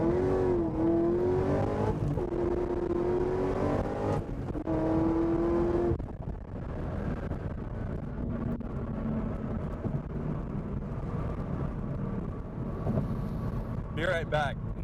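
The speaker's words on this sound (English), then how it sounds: "I seriously don't think I have ever accelerated that fast." A 2010 Corvette ZR1 accelerates hard, its engine rising through rapid pitch sweeps before a gear change, then droning on with wind rush while a person talks over it.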